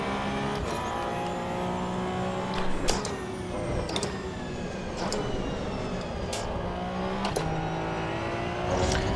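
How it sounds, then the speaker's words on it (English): Race car engine in the Assetto Corsa EVO driving game revving hard and bouncing off the rev limiter, a steady loud whine broken by repeated sharp shift cuts, with no talking. "See how I was able to do that right to the rev limiter?"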